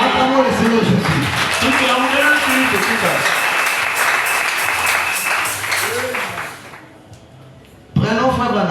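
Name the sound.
church congregation applauding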